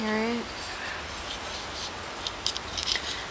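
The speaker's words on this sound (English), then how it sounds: "It's raining. You can hear it." Steady rain falls outdoors during a thunderstorm, a soft continuous patter with scattered louder drops near the end, heard alone without speech.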